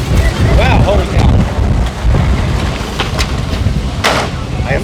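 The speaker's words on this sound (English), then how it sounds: "it's getting a little windy" Gusty wind buffets the microphone at an outdoor food truck event, a continuous loud rumble with rising and falling bursts, and people talk underneath it.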